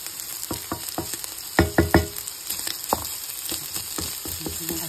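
Chicken pastil fries in hot oil while a utensil stirs it, a close, steady sizzle punctuated by repeated scraping clicks and knocks against the pan.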